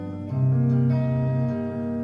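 Acoustic guitar picking a pattern across open and fretted strings, with sustained notes ringing together, played close and clear with no talking.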